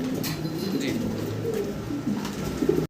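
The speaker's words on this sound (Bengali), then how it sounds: "খুব চমৎকার এক জোড়া স্টেসার কবুতর আমরা দেখতে পাচ্ছি" Pigeons coo softly in low, repeated rumbling calls, close by, with faint chirps and background noise.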